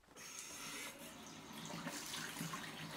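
Running water from a tap splashes steadily as Game Boy Pocket shell parts are washed in hot soapy water in a sink, a continuous close rush of flow and sloshing.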